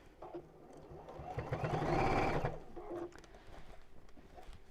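A sewing machine stitches in one short burst, whirring up to speed and running for about a second before stopping, close and fairly quiet, with soft handling noises before and after.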